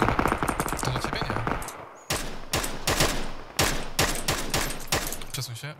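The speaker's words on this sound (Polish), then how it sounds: "Dostał dwa strzały z SKS-a." Rapid bursts of SKS rifle fire in PlayerUnknown's Battlegrounds crack out in several volleys, loud and close, with sharp repeated shots separated by brief pauses.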